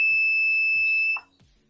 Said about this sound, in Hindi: दबाए गए बटन के सामने लाल लाइट जलती है और बीप साउंड आता है